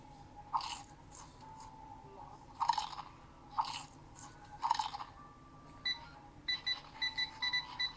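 Crunchy chip-eating sounds in a VR video game come in short, separated bursts of munching, followed by a run of quick electronic beeps toward the end.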